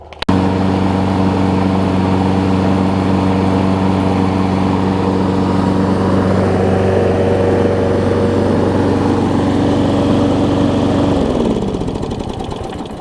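A Craftsman self-propelled lawn mower with a Briggs & Stratton Quantum OHV engine, its carburetor flooding when the air filter housing is fitted, runs loud and close with a steady droning hum before winding down and stopping near the end.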